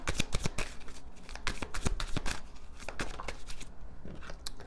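A deck of tarot affirmation cards shuffled close by, with rapid, loud riffling flutters and slaps repeating in quick bursts for several seconds, with no talk over them.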